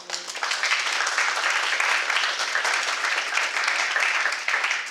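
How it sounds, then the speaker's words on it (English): A conference audience at the GeoSym 2016 symposium gives a round of applause for the organizing committee, a full, steady burst of clapping from many people that starts abruptly and carries on evenly for several seconds. "everyone please give them a round of applause"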